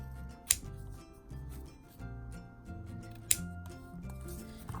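Scissors cutting faux leather for a hair bow, two sharp snips about three seconds apart over quiet background music, close and fairly soft, with no talking.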